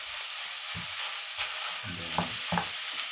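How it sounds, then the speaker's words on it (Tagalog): Ground pork for sisig frying in a pan, a steady close sizzle broken by several scraping stir strokes, with a brief spoken word over it. "let's just gisa it. Pan fry. Until cook. Saute. You just saute it until it is cooked."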